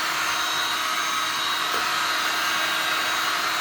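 A heat gun blows hot air onto a car headlight lens as it is warmed, a steady, loud airy fan roar with no change over the few seconds.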